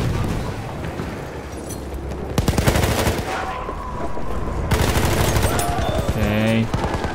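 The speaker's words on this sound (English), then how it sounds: "Use this machine gun." Rapid bursts of machine gun fire in Battlefield 1, close and loud, in several rattling volleys with booming explosions and battlefield noise between them.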